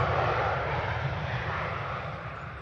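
A fixed-wing airliner touches down at Manchester Airport, its jet engines giving a steady, broad roar that holds at a fairly even level and fades slightly as the plane rolls along the runway.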